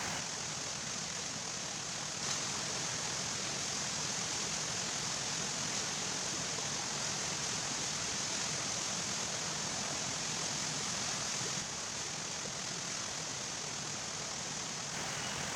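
Clear river water flows through a cool forest in a steady, dense rush that stays close and even for the whole stretch, with no voices over it.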